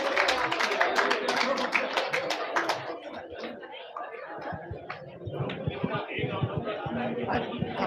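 An audience at an ashram celebration for a saint breaks into rapid clapping, dense at first and then thinning into scattered claps, with murmuring voices throughout.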